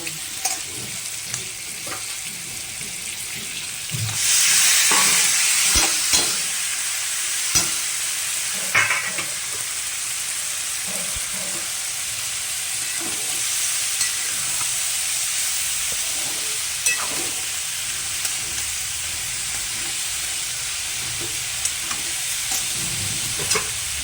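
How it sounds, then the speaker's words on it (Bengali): Spice masala sautéing with prawns and ash gourd in a pan, a continuous frying sizzle and hiss with a burst of steam and scattered scraping and clinking stirs, close up and without voices. "মশলাটা কষানো হচ্ছে, চাল কুমড়ো দিয়ে চিংড়ি মাছ দিয়ে মশলা সব কষানো হচ্ছে"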